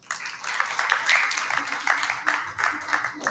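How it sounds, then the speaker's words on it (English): A crowd at a live-streamed International Day of Yoga 2020 event gives steady, dense applause, clapping evenly for several seconds with no voices over it. "Give him a big round of applause."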